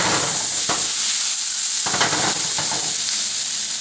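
Onions fry and caramelize in a pan with a loud, constant close sizzle, broken by a few scraping stirs, with no voices.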